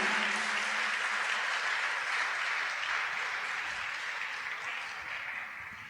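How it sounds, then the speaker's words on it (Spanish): Congregation in a church service applauding together, a dense, steady wash of clapping that stays loud throughout and eases off slightly toward the end, with no talk over it. "Dale un aplauso al Señor."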